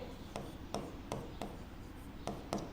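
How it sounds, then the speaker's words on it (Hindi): Pen or chalk writing out a full name by hand during a classroom lesson, a soft continuous scratching broken by about seven short sharp stroke taps, close and quiet with no speech. "तो इसका पूरा नाम लिखते हैं"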